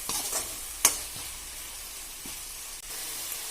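A ladle stirs fish curry with curry leaves in a pan over a soft sizzle. One sharp scrape stands out near the start, with a few quieter knocks after it, close and alone.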